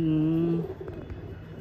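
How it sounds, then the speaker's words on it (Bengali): A Madrasi pigeon in a loft gives one close, steady low coo lasting about half a second, then quiet rustling. "দেখুন খুব দারুণ দারুণ কোয়ালিটির পায়রা আছে।"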